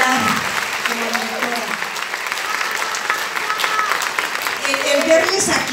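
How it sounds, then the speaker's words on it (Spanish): An audience at a staged performance of "The Vagina Monologues" applauds in a steady round of clapping, while a voice talks faintly under it and the sound swells slightly near the end. "Un aplauso para Tanya, de verdad, es espectacular."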